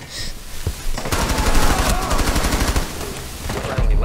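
Rapid bursts of gunfire from a shooter video game, loud and dense with automatic rattling through most of the stretch, shots overlapping in quick succession.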